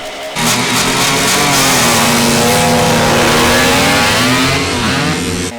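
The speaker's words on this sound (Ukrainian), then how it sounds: "Відтак Максим Щербаков заводить свій мінськ. Це 125-кубовий мотоцикл" A 125cc Minsk motocross motorcycle at a regional motocross event runs loud and close, its engine revving and droning steadily for several seconds with no pauses.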